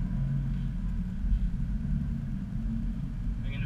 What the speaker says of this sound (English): back in my Subaru WRX